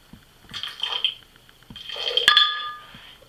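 Water poured from a container into a bowl of homemade cucumber face scrub, heard as two short splashing pours with faint clinks of the dish, the second pour louder and longer.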